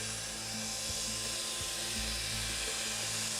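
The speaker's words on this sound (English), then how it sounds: "A valve seat must always be finished ground in the fitted state." Grinding of a valve seat on a Sulzer RTA exhaust valve produces a loud, continuous whirring machine drone with a steady low hum and grinding hiss throughout.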